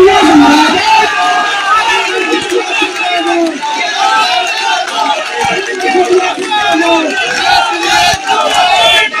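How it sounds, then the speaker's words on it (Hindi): A large crowd at an outdoor political rally in Datia roars with dense, sustained cheering and shouting, loud and continuous for the whole stretch, with clapping likely buried in the din. "जब तक वो माइक पर नहीं आ जाए तब तक तालियां बजाओ।"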